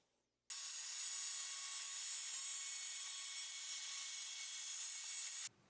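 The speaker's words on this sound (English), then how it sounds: "I use the Diablo wood demon blade on the circular saw here, and as you can see it makes a nice clean, no splinter cut." Circular saw fitted with a Diablo wood demon blade cutting through plywood, one steady high-pitched whine lasting about five seconds, close and loud, starting and stopping abruptly with no talking.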